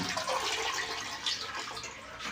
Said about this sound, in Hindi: देखिए इसको मैं फ्लश मारूंगा।